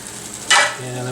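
Orange chicken frying in a pan, a low sizzle that swells into a brief louder burst of hiss midway, then settles into a steady fry with a faint hum.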